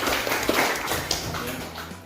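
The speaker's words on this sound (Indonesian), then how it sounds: "Tepuk tangan dulu." Classroom applause in a teacher-training session, a dense patter of clapping from a group that runs steadily through the short clip at moderate level.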